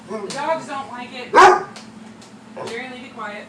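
A dog barks sharply once or twice close by at a steam mop, with people talking before and after.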